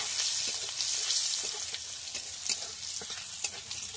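Garlic cloves sizzle in the leftover oil from frying fish, with a close, constant crackle broken by rhythmic scraping taps as a spatula stirs them around the pan.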